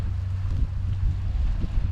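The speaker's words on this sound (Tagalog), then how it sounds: "Napakatahimik pero malakas yung hangin" Strong wind blowing across a quiet Bermuda island shoreline during a fishing trip, a steady low rumble of buffeting gusts against the microphone, continuous and fairly loud throughout.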